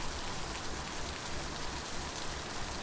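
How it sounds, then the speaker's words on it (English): Steady rainfall in the video game Littlewood, a dense, even hiss of drops pattering on surfaces that holds at a constant moderate level throughout, with no voices. "I love the sound of the rain."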